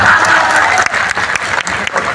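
Loud, close applause from the audience at a Hindi poetry gathering, dense continuous clapping filling the whole short stretch with no voices above it.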